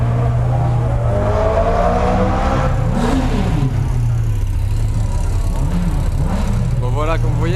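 Supercars, Ferraris among them, rumble and rev as they start to move off from a Cars & Chronos car meet, a loud, close idling drone broken by short throttle blips, with people talking over it.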